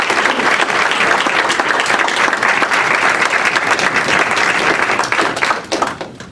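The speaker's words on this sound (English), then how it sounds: "How about a round of applause?" Steady, loud applause from an audience, dense clapping throughout that thins out in the final second.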